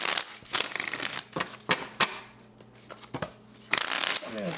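Tarot cards being shuffled and pulled during a reading, a run of close, crisp paper riffles and snaps in short bursts, over a faint steady hum.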